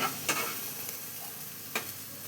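Spice paste with a splash of water being stir-fried in a pan for a spinach and rohu fish curry, a steady soft sizzle with a few scraping stirs of the spatula, close and alone.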